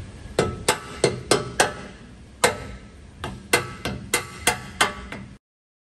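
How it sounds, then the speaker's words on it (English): Light hammer taps knock a Toyota 4Runner bumper cross member into alignment, about a dozen sharp, close metallic knocks in two irregular runs, with the last few falling in quick succession before an abrupt stop. "we're a little angled back, which we'll fix with some light taps"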